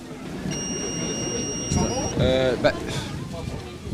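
A detector probe pushed into a piece of beef during a hidden-camera prank gives off a steady, high electronic tone lasting under two seconds, close by, with voices talking around it.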